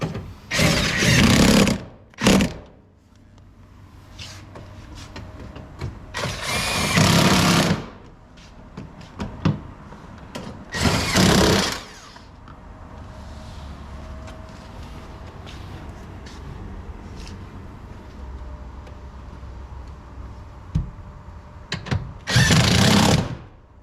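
Power tool driving and tightening four bolts on under-seat lockable storage in a 2022-or-later Toyota Tundra cab, heard in four loud separate bursts of whirring with quieter clicks and handling noise in between.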